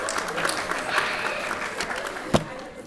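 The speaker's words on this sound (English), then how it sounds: "Why are you clapping?" Scattered audience clapping in a lecture hall during an astronomy class, a fairly soft and brief burst with one sharper clap near the end.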